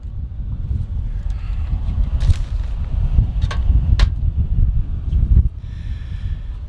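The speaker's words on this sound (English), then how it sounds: "It's very windy out here today." Strong gusty wind blows outdoors around a pellet grill, a steady low roar with several sharp buffeting bursts against the microphone throughout, no talking.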